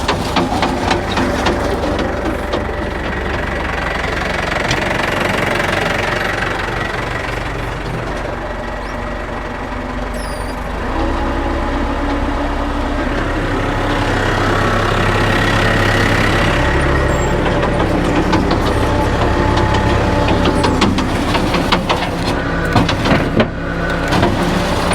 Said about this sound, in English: We're gonna have to give it some revs to get that pump up a bit more.